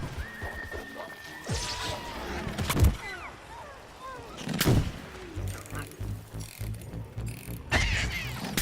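A player is hit by gunfire in Plants vs Zombies Garden Warfare, heard as a few sharp, scattered impact cracks over busy game noise, with mechanical clicks and whooshing effects.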